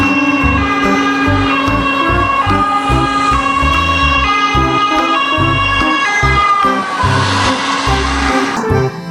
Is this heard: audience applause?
no